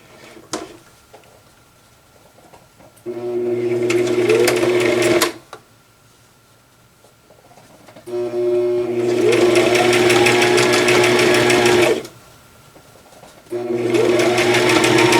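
A sewing machine stitches across a cross stitch pillow panel in three bursts of fast, loud whirring, separated by short pauses with faint handling noises.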